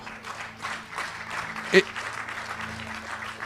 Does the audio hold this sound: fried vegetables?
no